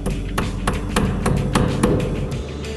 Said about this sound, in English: Using your hammer again, tack two more feet onto the bottom of B.